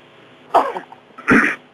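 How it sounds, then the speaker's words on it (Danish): A person gives two short, close coughs about a second apart, with quiet pauses around them. "Et øjeblik hoste."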